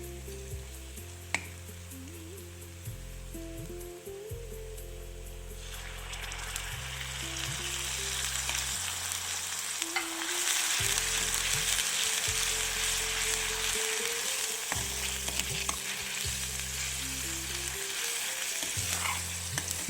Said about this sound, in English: Once it is cooked, add a ball of curd to the curry and stir it a little.